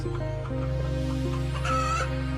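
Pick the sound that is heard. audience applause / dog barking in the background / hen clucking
hen clucking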